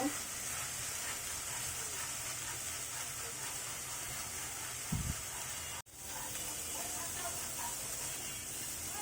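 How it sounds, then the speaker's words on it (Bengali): Onion and garlic paste fries in a pan for a boila fish bhuna, giving a steady, close sizzling hiss that runs unbroken apart from one brief dropout, with no one talking. "পেঁয়াজ রসুনের পেস্টটা যতক্ষণ পর্যন্ত কাঁচা গন্ধ না যাবে ততক্ষণ পর্যন্ত আমরা এটাকে ভেজে নিব"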